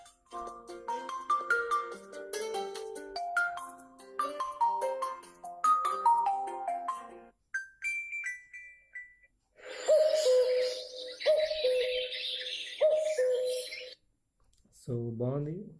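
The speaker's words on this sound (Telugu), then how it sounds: "బట్ చూద్దాం ఒకసారి రింగ్ టోన్ ఒకసారి విందాం ఎలా ఉందనేది" An Honor 8 Pro phone plays its ringtone through its loudspeaker, a bright melodic tune of chiming notes followed by a chirpy, birdlike tone sequence, loud and close, with a brief voice cutting in at the end.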